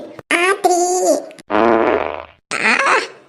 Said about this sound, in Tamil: நல்ல வேலை காத்து பிரிஞ்சிருச்சு